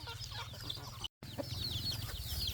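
Chickens cluck softly while feeding in a rural yard, with scattered quiet clucks and a brief break partway through.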